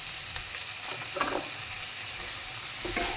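Chopped brinjal sizzles in a hot pan, a steady frying hiss broken by a few scraping stirs, close and clear with no voices.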